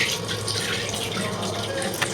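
Mustard oil pours into a kadai wok as a steady, continuous liquid stream, close and fairly loud for about two seconds.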